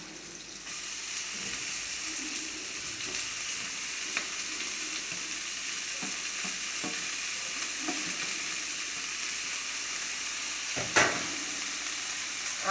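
Chopped fenugreek leaves frying in a hot pan, a steady close sizzle running throughout with occasional stirring scrapes and a sharp clatter near the end.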